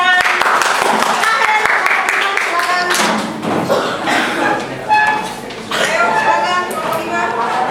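Classroom audience clapping after a group presentation, a burst of mixed hand claps that thins out and swells again over several seconds, close and fairly loud, with voices murmuring in the room.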